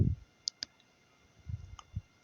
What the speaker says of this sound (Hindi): इधर क्लिक कर लिया